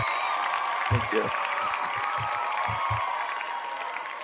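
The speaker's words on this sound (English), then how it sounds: "Let's give him one more round of applause before you give your plugs" A live audience at a comedy podcast taping applauds in a sustained, even wash of clapping, with a brief spoken thanks over it as it slowly tapers.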